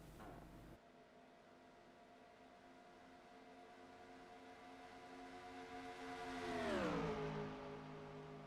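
Race cars in the Disney Cars World Grand Prix game roaring down the fastest straight, a sustained engine whine climbing steadily in pitch and loudness, then swooping sharply downward as a car passes close by.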